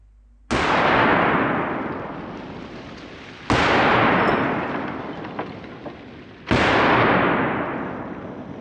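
Three powerful rifle shots are fired into a bulletproof house wall, each a sudden, loud crack that trails off in a long decaying echo, spaced about three seconds apart outdoors.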